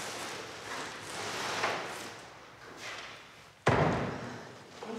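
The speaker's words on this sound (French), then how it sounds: "Je te laisse fermer la porte?" A door at an animal shelter is pushed shut at night, ending in one sharp, loud slam after several seconds of quiet rustling and shuffling nearby.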